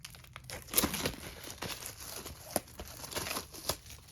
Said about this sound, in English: let's take this plastic wrapping off